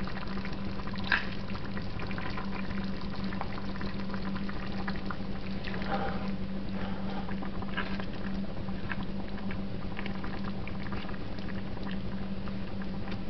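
Beef mince stuffing simmers in a pan as the water cooks off, a soft continuous bubbling and sizzling patter at low level with a faint steady hum beneath.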